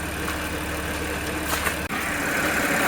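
An Audi S5 engine, buried in snow for months, idles steadily while warming up, with a constant low hum and a brief dropout partway through. No voices.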